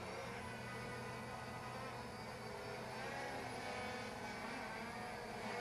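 K90 Max drone flying fast outdoors against the wind, a faint, steady broadband whir mixed with wind noise, distant and continuous with no talk.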